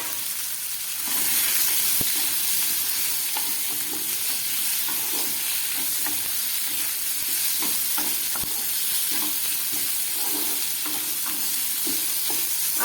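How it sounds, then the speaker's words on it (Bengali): Boiled potatoes frying with spices in a pan give a steady close sizzle, broken by irregular scrapes and knocks of a spoon stirring through them, with no talk. "এবার আমি সিদ্ধ করা কিছুটা আলু এর মধ্যে দিয়ে দিচ্ছি"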